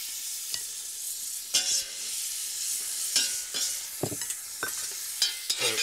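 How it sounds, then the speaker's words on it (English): Bacon sizzles steadily in a hot pan, with a constant crackling hiss broken by sharper pops and spits here and there. "the first thing we need to do is get the bacon frying into this pan here"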